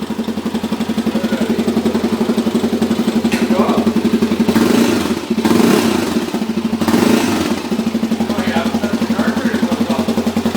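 A Honda TRX 400EX ATV engine with a glitchy starter and the choke on, running at a loud, steady clattering idle with a couple of brief revs midway.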